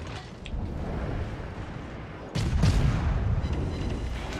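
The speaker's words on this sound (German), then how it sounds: "da kommen auch schon Schüsse" A deep boom rolls in mid-way over a constant rumbling backdrop, heavy and low like distant cannon fire, with smaller crackles before it; naval gunfire in World of Warships.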